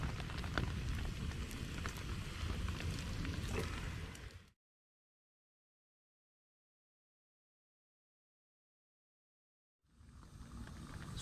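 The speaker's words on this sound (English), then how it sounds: "It's raining" Steady rain patters on a surface at a wild campsite in Switzerland, a dense even hiss lasting about four seconds, then silence, then the rain returning near the end.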